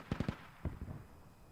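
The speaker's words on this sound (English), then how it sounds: "The hell cannon was a little bit close." Hell cannon artillery in a military video game: three quick booming blasts close together, then a pair of further thuds, loud and sharp, with no talk.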